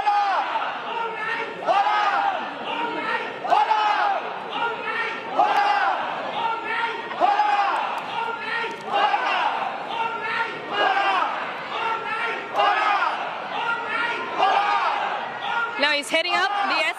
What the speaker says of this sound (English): People are happily cheering for him.